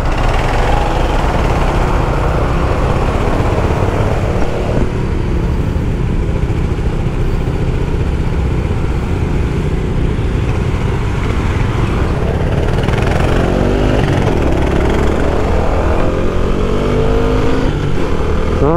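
A Kawasaki KLR 650 motorcycle engine runs steadily up close with a loud, rough low rumble throughout, no voices.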